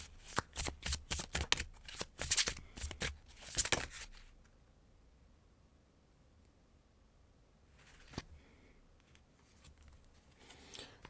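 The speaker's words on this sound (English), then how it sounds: "I just shuffle the way I've always shuffled." Tarot cards shuffled by hand, a rapid run of crisp riffling snaps for about four seconds, then near silence broken by one short card flick and faint soft handling.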